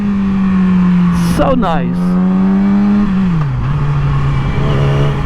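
A Yamaha R6 motorcycle engine holds a loud, steady drone whose pitch briefly dips as it is GP-shifted, close by, while someone speaks briefly over it.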